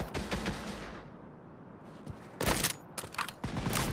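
Gunfire in a chaotic multiplayer shooting game: several bursts of rapid shots, a spray at the start and then louder clustered volleys in the second half, moderately close with lulls between.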